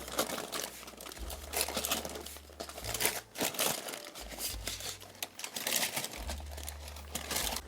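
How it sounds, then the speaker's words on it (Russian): Parchment paper crinkling and rustling steadily up close as a cheese roll is tightly rolled by hand, with soft crackles and a low hum underneath. "Помогаю себе пергаментной бумагой."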